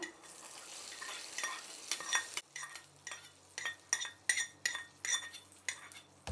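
Metal spoon stirs hot tempering into curd rice in a steel vessel, giving repeated clinks and scrapes in a steady rhythm with a brief sizzle, close and fairly loud, without talk.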